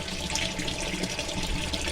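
Tap water pouring steadily into a kitchen sink being filled to test whether a clog has cleared, a continuous close, broadband rushing with no talk.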